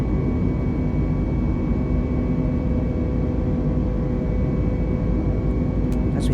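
An Airbus A320neo takes off and climbs in Microsoft Flight Simulator, its engines giving a loud, steady, dense roar with a constant low rumble throughout, close and unbroken.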